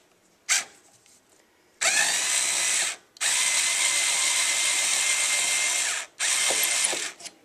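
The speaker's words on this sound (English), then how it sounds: "use the screwdriver attached to unscrew the screws" A power drill with a screwdriver bit unscrews screws from the base of a globe in loud, sustained bursts: a brief blip, then a one-second run and two longer runs of several seconds, with ratcheting clicks between.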